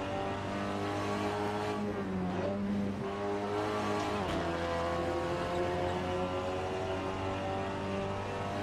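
A race car engine in a sim racing game at Laguna Seca revs loud and close, its pitch climbing through a gearshift around the middle, while another car's engine hums along underneath.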